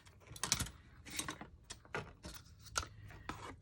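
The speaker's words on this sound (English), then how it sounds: "Now I'm going to take this piece and cut here." Paper or card for a recipe box is cut in a series of quiet, close snips and scratchy crunches at an irregular rhythm, with no talk.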